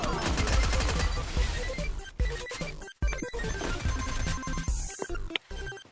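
Dense, rapid gunfire from a shooting video game, with bursts of automatic fire, a brief gap, then more shots and sharp impact effects, loud and continuous.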